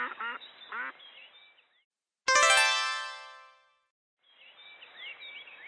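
A single loud duck quack from a farm scene rings out in one sharp burst that fades away, with voices speaking before and after it.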